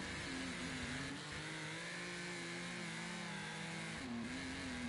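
A race car on a track accelerating with a steady, droning engine note that climbs slightly in pitch, constant and fairly faint as if heard from a distance.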